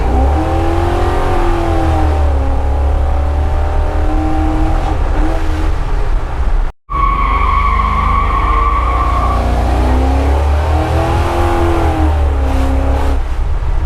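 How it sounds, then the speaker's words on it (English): An LS-swapped truck drives and revs, its engine tone climbing and falling repeatedly in loud, close pulls, broken by a brief dropout midway. "We were able to go for a ride in this truck and really get a feel for what one of these swaps is like in a truck like this"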